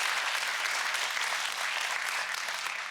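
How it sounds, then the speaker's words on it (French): Studio audience applauding on a Belgian TV game show, a dense, steady wash of many hands clapping throughout, fairly loud and alone with no talk over it. "le public vous applaudit"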